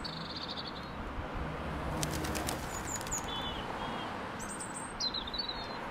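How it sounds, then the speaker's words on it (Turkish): A flock of birds sheltering in a tree gives off a brief burst of wing flapping among scattered high chirps and calls, faint over a steady outdoor hiss. "Bakın ne kadar çok kuş var."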